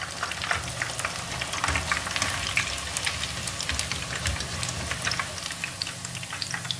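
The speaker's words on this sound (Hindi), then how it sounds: "बाकी के जो रह गए हैं उन्हें फ्राई करते हैं" Cabbage pakoras frying in hot oil, a steady, dense crackling sizzle with fine popping bubbles throughout, close and continuous, with no talking.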